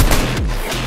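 Gunfire in the Fortnite Chapter 5 video game comes as a loud, dense burst of rapid shots with no gaps, filling under a second.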